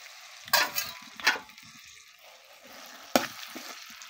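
Chickpeas go into hot oil and sizzle, with a few sharp bursts of spattering and stirring scrapes over a steady low frying hiss; no voices.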